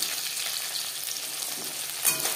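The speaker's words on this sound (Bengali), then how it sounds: "একটা সাইড ভাজা হয়ে গেলে অপর সাইডটা উল্টে দেবো" Bata fish frying in a hot wok, a steady broad sizzle with a brief louder crackle near the end, close and continuous with no one talking.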